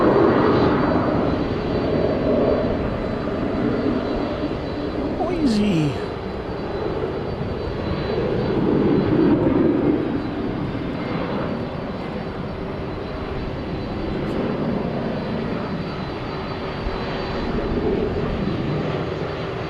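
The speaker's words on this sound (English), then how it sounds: "And off goes that Delta A319 to LAX" A Delta Airbus A319 jet takes off at DFW Airport at night, sending out a long, loud, broad engine roar that swells and eases over about twenty seconds, with a brief bird-like chirp partway through.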